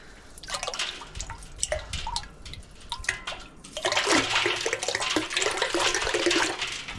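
Molten copper at about 2000 degrees poured into a 55 gallon drum of water gives sharp crackles and drips, then a loud, sustained hissing rush of boiling water.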